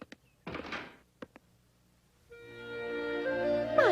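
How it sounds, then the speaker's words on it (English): A few soft thumping knocks on a door in an animated Pinocchio adventure, spaced irregularly, followed by rising, sustained musical tones. "Who's knocking?"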